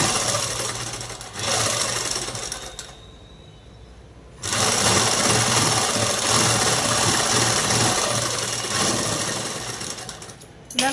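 Sewing machine stitching along the lining of a boat-neck long frock, a steady mechanical whir that pauses briefly midway and then resumes, running on its own without talk.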